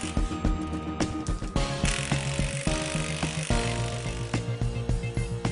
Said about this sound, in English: Alternately tighten the bolts with a socket wrench until the bolts shear off.